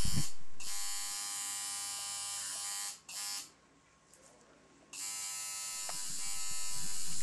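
A tattoo machine shading a color tattoo buzzes steadily up close, cutting out briefly twice before resuming its constant electric whine.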